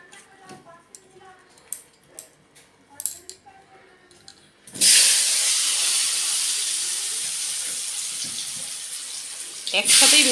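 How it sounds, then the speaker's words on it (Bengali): Potatoes dropped into smoking-hot oil for Kashmiri alur dom: a sudden loud hissing sizzle bursts in partway through and roars steadily, close up, after quiet clinks and a speaking voice. "এবার আলুগুলোকে আমি ছেড়ে দেবো, আস্তে করে নেবো আঁচটাকে"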